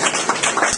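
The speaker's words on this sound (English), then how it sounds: "Look at my round of applause." A short spurt of hand clapping in a history classroom, a few claps with quick uneven taps, fairly close and brief.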